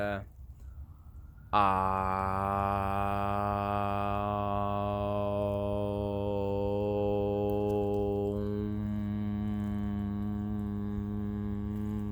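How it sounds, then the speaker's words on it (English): A single voice hums a long, sustained tone for meditation, steady and resonant, with a brief breath or sound before it starts and a slight change in tone partway through. "So you could meditate while humming."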